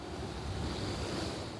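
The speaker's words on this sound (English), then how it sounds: "Powerful gusting winds pile snow higher and higher." Powerful gusting winds roar through a nor'easter snowstorm, a loud, dense, continuous rush that swells slightly in the middle without any talking.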